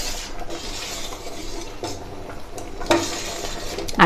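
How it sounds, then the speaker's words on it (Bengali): Payesh, a Bengali rice pudding with cashew dust and condensed milk, is stirred steadily in a pot, with scraping and a few sharp clinks of the spoon against metal near the end. "এইবার অনবরত নেড়ে সব কিছুকে ভালো করে মেশাতে হবে।"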